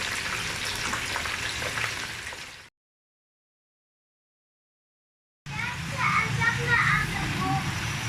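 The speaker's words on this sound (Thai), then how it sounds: "นี่ก็ทอดกระเทีย" Garlic frying in oil for a large batch of pad thai, a steady sizzle that cuts out to silence partway and then returns, with children's voices and chatter in the background.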